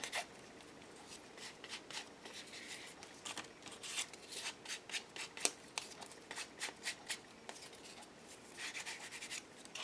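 Walnut stain is rubbed onto paper cards with a soft, continuous scratchy swishing. It is faint and close, with brief rhythmic strokes and no voices.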